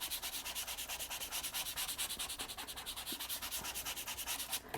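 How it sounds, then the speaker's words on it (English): A credit card is rubbed firmly over paper in an art journal to burnish it, making quick, regular back-and-forth scraping strokes, close and fairly quiet. "And I'm just gonna go ahead and burnish."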